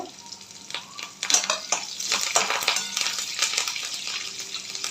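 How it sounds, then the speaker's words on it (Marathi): Green chili and curry leaves frying in hot oil in a pan for a potato stir-fry, a steady close broadband sizzle with bursts of spattering crackle that swell partway through and continue without talk. "व्यवस्थित तळू द्यायची आपल्याला कढीपत्ता टाकायचा"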